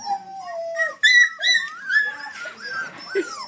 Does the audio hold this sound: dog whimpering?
yes